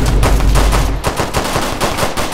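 Rapid automatic AR rifle fire in a Roblox game, dense overlapping bursts of shots crackling continuously and loudly for the whole stretch, with no talking over it.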